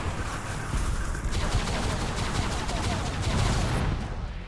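Dense, continuous gunfire and explosions from the SpyHunter 2 (2003) vehicle combat video game, a steady loud barrage with no speech.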